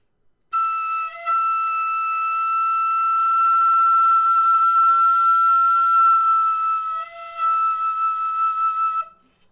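A Thornton High D tin whistle plays a sustained, pure note in its second octave, bright and close, swelling slightly then tapering with a small shift near the end, held alone for about nine seconds.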